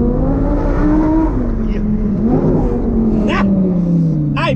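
An Audi R8 engine revs and pulls hard with a rising, sustained roar close by, while people talk and exclaim over it.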